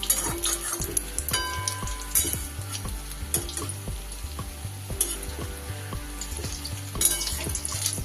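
Close, steady crackle of egg fritters frying in mustard oil in a wok, with rhythmic metal spatula strokes turning them and occasional light clinks.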